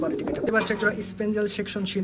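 Pigeons cooing at a pigeon farm, several soft repeated coos close by while someone talks over them.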